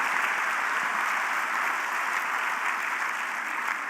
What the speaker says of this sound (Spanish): esta vez un fuerte aplauso al Espíritu Santo